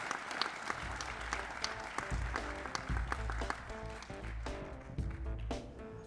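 Audience applause for comedian Gary at a conference closing session, steady clapping from a crowd heard from a distance, with music or low rumbling mixed underneath throughout.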